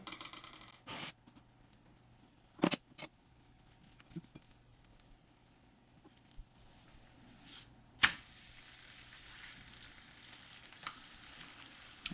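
A crepe cooks in a pan with a soft, steady sizzle close by, broken by a few sharp clicks and scraping knocks as it is turned.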